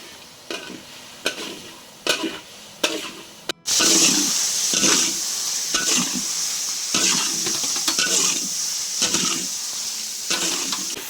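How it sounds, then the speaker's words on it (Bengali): Chicken pieces being stir-fried with Kashmiri chilli and turmeric on a medium flame for korma polao: a few sharp spoon taps, then a loud continuous sizzle with regular scraping and stirring strokes. "বন্ধুরা আমরা এখন মিডিয়াম ফ্লেমে মাংসটাকে কষে নেব।"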